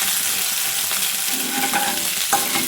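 Ginger paste fries with cumin in hot oil for palak paneer, giving a steady, loud, close sizzle with faint stirring scrapes.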